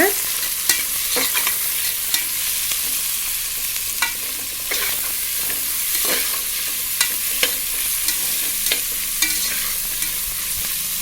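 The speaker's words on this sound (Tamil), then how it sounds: "இப்போ நல்லா கிண்டி விட்டுருங்க." Onions fry for ghee rice while a spoon stirs them around the pan, giving a steady sizzle broken by repeated scraping clicks, close and alone.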